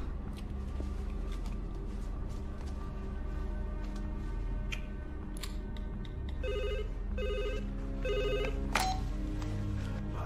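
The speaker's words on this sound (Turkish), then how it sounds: "Telefon." An old telephone bell rings in short repeated bursts over a steady low background hum, several rings in a row, fairly clear and close, with no speech over it.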